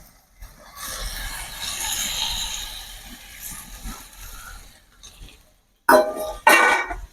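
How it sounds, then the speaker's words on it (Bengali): Fried potatoes and jackfruit pieces tipped into a spiced masala in a pan for a Bengali jackfruit-prawn curry: a steady soft sizzle and rustle, then two sharp metallic clinks of a utensil against the pan near the end. "এবার আমি এর মধ্যে দিয়ে দেবো আলু আর এঁচড়োগুলোকে ভেজে রেখেছিলাম সেগুলো আমি দিয়ে দেবো এর মধ্যে"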